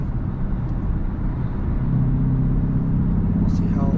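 A BMW X5 M50i with a 4.4-litre V8 BiTurbo cruising on a German Autobahn gives a steady, loud low drone of engine and road rumble from inside the cabin, swelling slightly partway through.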